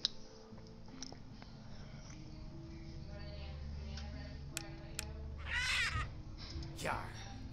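A crow caws in the horror game Ultimate Custom Night, a few clear caws standing out near the end over a low droning background and faint clicks.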